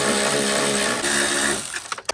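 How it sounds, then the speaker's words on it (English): A power tool whirs steadily for about two seconds while fastening 10mm bolts that mount the cross member on a RAM Promaster van, then stops into a few sharp clicks and knocks. "All right, got my 10mm bolts. Going to mount the cross member back on."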